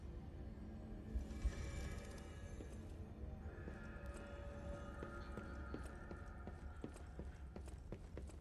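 A donkey in a video game, heard as steady clip-clop hoofbeats with whinnying and braying calls running through a busy game soundtrack, faint and fairly continuous.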